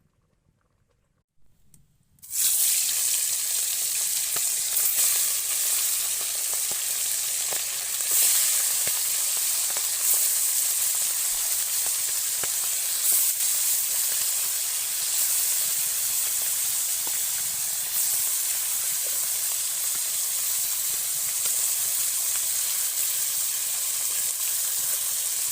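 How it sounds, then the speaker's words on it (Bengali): Sea chanda fish (pomfret) fries in a pan with a loud, steady, close sizzle. Bright crackling hiss starts abruptly after a short quiet moment and continues without pause and without talk. "তো এরপরে আমি ভাজবো।"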